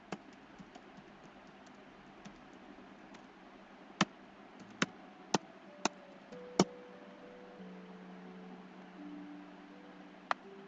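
A handful of sharp, isolated clicks from a computer keyboard as an email address is entered, spaced irregularly over a faint steady hum with no talking.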